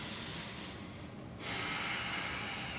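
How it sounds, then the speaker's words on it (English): Slow, deep breathing held through a power yoga pose, heard as a close, airy breath with a brief pause midway before a fuller, louder exhale; nobody speaks. "take 3 deep breaths here"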